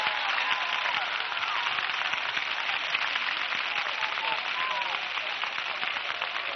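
A large crowd applauds steadily, with dense continuous clapping and a few whistles and voices mixed in.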